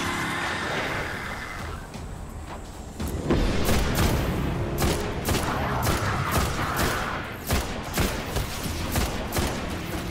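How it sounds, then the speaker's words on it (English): Enemy gunfire in the video game Destiny crackles in rapid bursts and booms, loud and dense over a continuous battle rumble, with no one talking. "They're shooting me right there."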